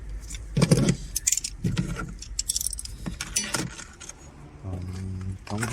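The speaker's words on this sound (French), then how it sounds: "je vais enlever un peu tous mes outils" A mechanic handles and puts away tools while servicing a 2013 Citroën C3 1.4 HDi, with close metallic clinks and jangles in irregular bursts and brief clattering, plus a short humming tone near the end.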